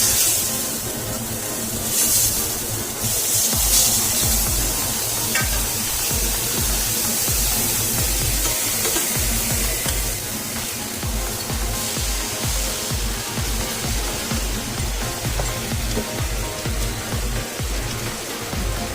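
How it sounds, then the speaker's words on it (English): Fish pan frying on a stovetop, a steady close sizzle and crackle with brief louder spitting bursts, running on throughout. "You let the fish pan fry for about 30 seconds"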